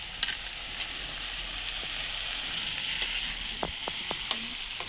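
Thinly sliced potatoes, three or four green chillies and chopped onion frying in a pan for veg chowmein, a constant crackling sizzle with a few sharp spatula taps and scrapes toward the end.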